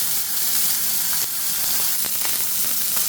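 Steady loud sizzling of burger patties frying in a hot pan, a continuous crackling hiss with occasional pops, close up and uninterrupted.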